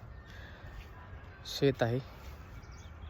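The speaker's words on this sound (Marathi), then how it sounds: "चिमण्यांचा, पक्ष्यांचा, पाखरांचा आवाज इथे आहे" Crows caw by a farm field in morning sunshine: two harsh calls close together at mid-distance, over a soft outdoor background with some brief talk.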